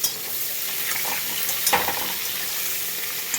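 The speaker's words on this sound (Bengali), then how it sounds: "কাঁচকলা আর আলুগুলো আমি দিয়ে দিলাম" Green plantain and potato pieces fry in hot oil for a Bengali fish curry, giving a steady moderate sizzle with a few clinks and stirring scrapes, no voices.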